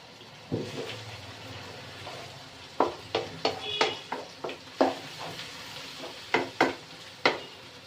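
Tomato and onion cook in oil in a frying pan over high flame for a bitter gourd dish, giving a low steady sizzle broken by a run of sharp utensil scrapes and taps against the pan, close by.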